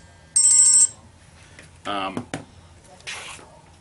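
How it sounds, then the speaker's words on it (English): A cell phone rings briefly with a bright electronic tone near the start, followed by a person talking. "That's my cell phone going off."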